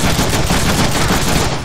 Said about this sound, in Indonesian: ini kemana sih yang nembak-nembakin gua?